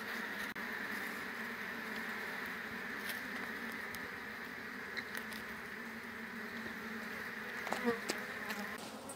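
Honey bees drone steadily around an open hive during late-summer beekeeping, a dense continuous buzz close by with a few brief knocks near the end.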